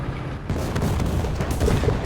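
Tank gun fire in the tank video game ISU-152 comes as a single heavy boom near the start, followed by a rumbling, noisy battlefield background.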